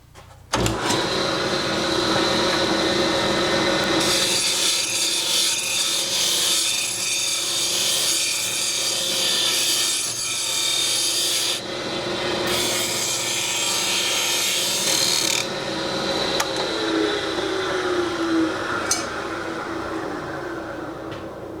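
A wooden bowl spins on a lathe while it is sanded, a continuous loud whirring rasp of abrasive on wood that shifts in intensity as pressure changes, with the motor hum underneath.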